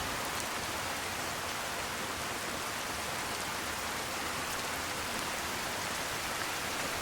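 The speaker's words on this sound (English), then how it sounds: "And it's starting to rain." Rain in the video game Fallout: New Vegas, a dense, even hiss of falling drops with faint patters on surfaces, continuous and unchanging throughout.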